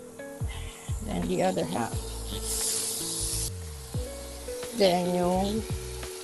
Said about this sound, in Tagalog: Now I'm gonna put the hanger steak